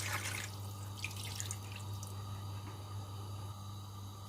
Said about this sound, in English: I'm going to add about a litre of water